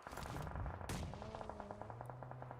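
Rapid, fairly close gunfire rattles out in a PUBG Mobile esports match, one sharp shot standing out among quick repeated reports.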